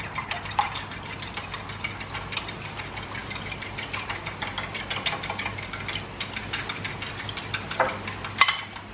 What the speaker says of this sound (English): Then I am going to mix my eggs.